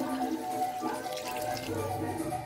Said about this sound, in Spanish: Voy a estar añadiendo el agua.